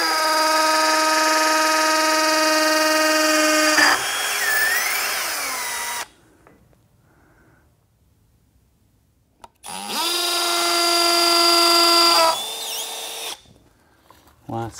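A power drill bores holes into an 18-inch Dayton Audio Ultimax subwoofer enclosure, its loud high whine running for several seconds, stopping, then starting again for another long burst.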